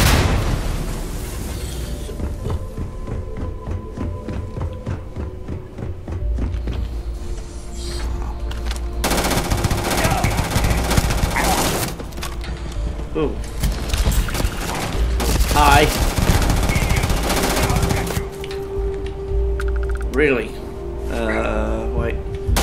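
Gunfire in the video game Starfield crackles in rapid bursts and volleys, loud and close, with booming impacts mixed in, while a player talks over much of the shooting.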